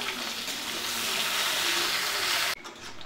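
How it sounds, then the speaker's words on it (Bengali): Chopped onion frying in hot oil gives a dense, loud, steady sizzle that cuts off abruptly near the end, leaving a quieter crackle, with no voices. "এই পেঁয়াজটাকে আমি একটু হালকা ব্রাউন করে ভেজে নিব।"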